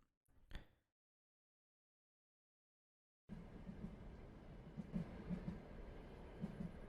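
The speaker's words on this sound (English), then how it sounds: "As the train goes by you" A train passes on tracks as a tabletop game sound effect. After a short burst and a gap of silence, a steady rumble of rolling wheels sets in with faint rhythmic clacks.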